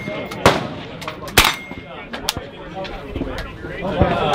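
Suppressed AK rifle shots at an outdoor range: a few sharp, fairly loud reports spaced irregularly, with softer mechanical clatter and background voices between them.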